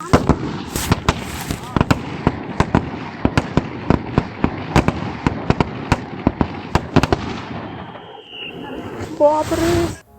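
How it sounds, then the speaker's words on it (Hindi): Loud gunshots from military training echo in rapid, irregular bursts, dozens of sharp cracks over several seconds with some closely spaced, then a brief lull before a final burst. "बहुत जोर जोर से बंदूक की आवाज आई।"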